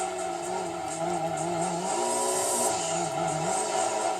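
A Gran Turismo 2 race car on an endurance race at Grand Valley brakes and accelerates, its engine holding a loud, steady whine that dips and climbs again with each throttle change, close and continuous with no talk.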